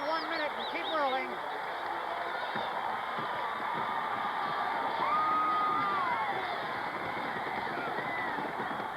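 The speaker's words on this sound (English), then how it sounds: "there you see a sellout crowd, probably the largest in the history of football here in Norman, Oklahoma" A sellout football stadium crowd in Norman, Oklahoma, at the 1971 Nebraska vs Oklahoma game cheers in a sustained, distant roar, with whistles and shouts rising out of it.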